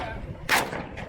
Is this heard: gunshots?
yes